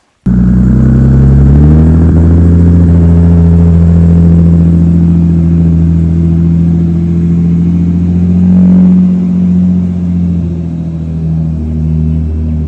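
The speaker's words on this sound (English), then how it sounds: "The huge win is the fact that the car actually starts. We were able to get it to idle." Loud, close 1000+ HP Toyota Supra engine running after starting, a deep harmonic rumble that rises briefly then settles into a steady, slightly wavering idle for the whole stretch.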